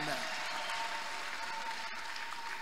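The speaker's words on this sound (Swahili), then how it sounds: "Mpigieni Yesu makofi, acha wivu." A church congregation breaks into sustained applause, dense steady clapping filling the room throughout, fairly loud and even, with a faint voice carrying over it near the end.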